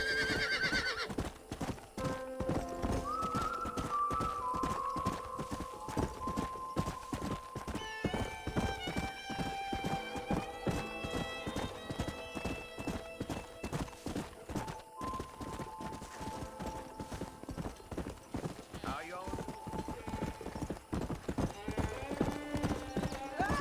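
Horse hooves clip-clopping at a steady gallop in the Red Dead Redemption video game, with occasional neighing, layered under game music and a voice talking.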